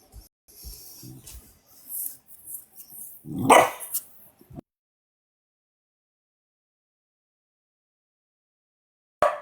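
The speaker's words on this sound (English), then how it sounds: "I gotta deal with the dog" A dog barks and growls close by in a short, loud flurry of several barks that ends abruptly in silence.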